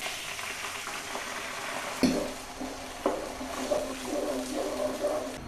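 Gobi manchurian sizzles and fries steadily in a hot pan on high flame, with a few sharp scrapes and clinks of a utensil stirring through it.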